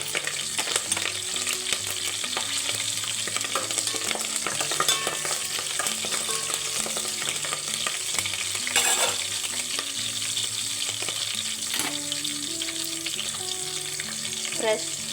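Curry leaves crackle and sizzle in hot oil for South Indian coconut rice, with a spoon stirring and scraping the pan throughout, close and steady beneath a soft musical background.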